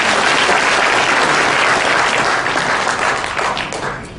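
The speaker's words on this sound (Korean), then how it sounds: "우리 이동영 회장께 다시 한번 박수 부탁드립니다." A crowd at a Korean nuclear-security citizens' front launch event claps steadily, a thick roar of many hands that holds loud and then begins to thin and fade near the end.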